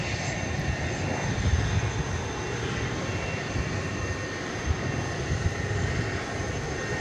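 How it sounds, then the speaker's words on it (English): A nineteen-year-old Airbus A300 jet airliner taxis at night, giving off a low, steady, fairly faint engine drone with thin high whines and no speech. "Looks like an A300 going out to Ontario."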